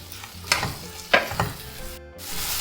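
Sliced tomatoes hit a hot pan of onion, ginger and garlic for a Malabar-style mutton varattiyathu, giving a steady close sizzle with a few sharp stirring scrapes and a brief drop-out near the end.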